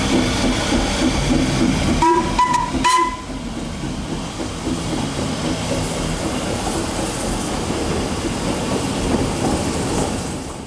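Merddin, a narrow gauge steam locomotive just back from overhaul, hauls a train on the line to Tanyllyn; a short whistle blast rings out early, then the rumbling clatter of wheels and carriages rolls on steadily.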